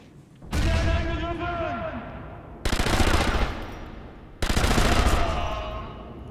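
Thompson submachine gun fired in the video game Sniper Elite V2, three loud sustained automatic bursts of rapid rattling shots, close and with short pauses between them.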